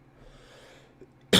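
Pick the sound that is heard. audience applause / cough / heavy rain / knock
cough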